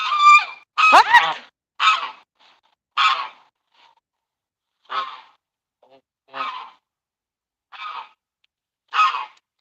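Backyard chickens raise alarm calls after a hawk or falcon passes overhead: about eight short, loud squawking bursts spaced roughly a second apart, with no talking.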